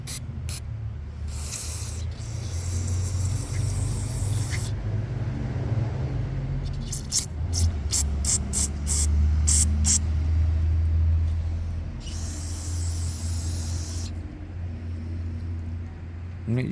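Compressed air or a spray hose blasts in several hissing bursts while cleaning out an Eagle during restoration, some long and some short and rapid, over a steady low rumble.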